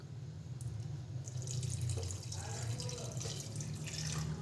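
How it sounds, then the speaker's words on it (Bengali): Warm water trickles from a tap-like pour into rice flour batter for chitoi pitha, a steady close splashing stream running alone for several seconds. "আর দেবো অল্প একটু জল।"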